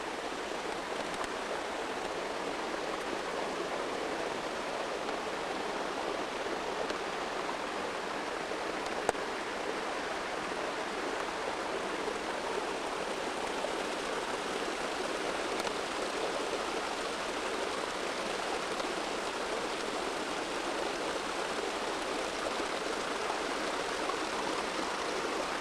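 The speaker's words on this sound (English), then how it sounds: "Looking on the other side of the bridge, we see the brook going down that way" A brook in Hawaii flowing beneath a bridge, a steady, even rush of running water that holds constant throughout with no voices.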